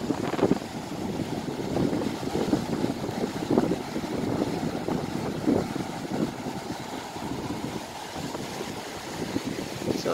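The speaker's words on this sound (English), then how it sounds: "It's a little bit windy today." Steady wind roars across the microphone beside the ocean at La Libertad, Negros Oriental, with low rumbling gusts and surf noise running continuously throughout.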